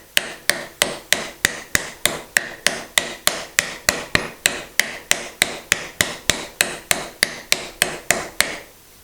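A no-mar hammer taps wooden dovetail joints together in a steady series of about two dozen sharp, evenly spaced knocks, close and clear, with no talking.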